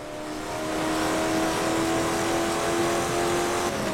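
A high-grip race car in a driving video game holds a loud, steady engine drone at high revs, the pitch climbing slightly as it accelerates, with no voices over it.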